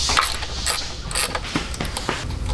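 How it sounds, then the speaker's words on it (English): A ratchet turning a 10mm nut on a BMW HP50 transmission in an AWD B58 M240i, with mechanical clicking and metallic scrapes close by during the transmission swap. "It's going to use a ratchet, and you can take it out by hand."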